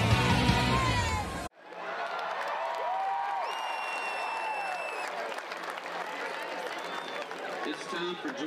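A big home-opener football crowd at Paulson Stadium for Georgia Southern against Maine roars and applauds in a broad, steady swell of cheering and whoops, after a short burst of other sound cuts off.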